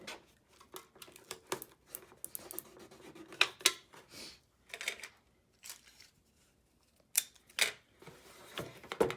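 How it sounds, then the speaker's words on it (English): Tape is pulled and pressed to hold cans in place on a robot built from recycled materials, heard as close, intermittent crackling rips and rustles with quiet pauses between them and no talk. "Now I'm just going to use some tape to hold it into place."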